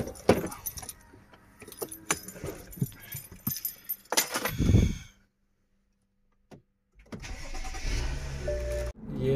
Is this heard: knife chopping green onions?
no